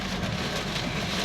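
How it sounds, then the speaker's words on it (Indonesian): Heavy rain with strong wind beside a main road in Cianjur, a dense, steady roar of downpour filling the whole short stretch. "Hujan disertai angin kencang."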